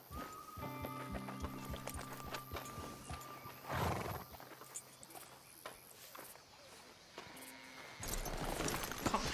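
A horse in Red Dead Redemption 2 whinnies and snorts, its hooves clip-clopping on the ground, with game ambience and music tones behind it and brief character voices.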